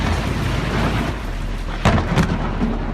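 A nighttime thunderstorm with intense lightning rumbles with deep, rolling thunder over steady rain, and sharper cracks of thunder burst out near the end.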